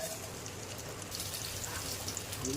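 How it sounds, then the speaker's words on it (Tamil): Ginger pieces frying in sesame oil in a kadai, giving a steady, dense crackling sizzle that stays even and fairly close throughout with no talking. "இஞ்சி நல்லா ஃப்ரை ஆகிட்டு வருது"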